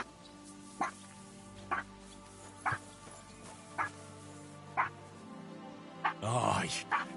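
A dog in the medieval video game Kingdom Come: Deliverance II gives short, evenly spaced yips and barks about once a second, ending in a longer whimper, over a steady background hum.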